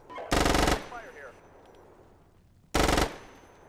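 Machine gun fire in a video game: two loud, rapid bursts of automatic fire, the first about half a second long and the second about a quarter second, separated by a quieter stretch of faint background noise.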